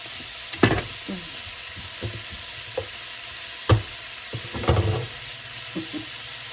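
Garlic frying in a pan as soup gets started, heard as a soft steady sizzle broken by several sharp stirring scrapes and clatters.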